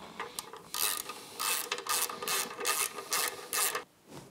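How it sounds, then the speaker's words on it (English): A drain bolt and washer being threaded in and tightened on a Yamaha F225 outboard motor, heard as a series of short, scratchy ratcheting strokes at a steady rhythm, close and fairly loud, with no talking. "And now our drain bolt with its washer."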